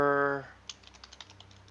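Keystrokes on a computer keyboard follow a brief stretch of voice, about a dozen light, separate clicks in an uneven rhythm, close up and fairly quiet.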